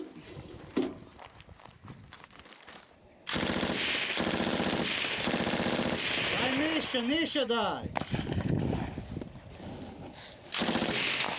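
Bursts of automatic rifle fire crack loudly and repeatedly at close range, with a voice briefly shouting between volleys.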